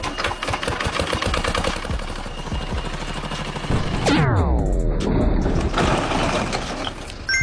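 A tractor grinds with a steady mechanical rattle and engine drone as it pushes into a solid brick wall, with a loud crunching collapse about midway and rumbling debris afterward.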